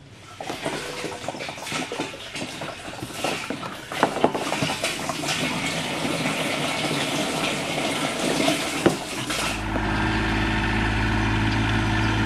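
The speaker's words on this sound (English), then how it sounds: "So if we just flip that on, we should get water." Submersible 12V pump drawing muddy water from a creek, a steady rushing gush of water over an engine-like hum that shifts to a smoother, heavier drone near the end, with no talking.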